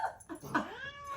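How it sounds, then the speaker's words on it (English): An unhappy cat lets out a single drawn-out, wavering meow, close and fairly loud, bending upward in a whiny caterwaul with no talk over it. "My cat is not, my pussy is not happy."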